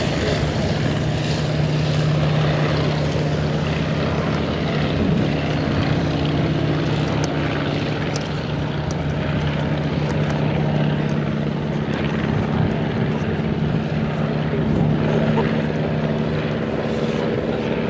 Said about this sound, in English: There we are with the other beautiful triplane.